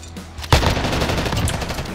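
Hip-fire gunshots from an AK-47 or Swiss K31 in the video game Warzone: a sharp burst of shots beginning abruptly, followed by a rapid run of loud, closely spaced reports and sustained echoing noise.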